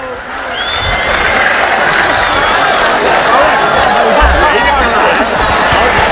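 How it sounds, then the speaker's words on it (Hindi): A mushaira audience claps loudly amid dense crowd chatter and cheering, a continuous roar of hands and voices lasting the whole stretch. "ताली बजाओ।"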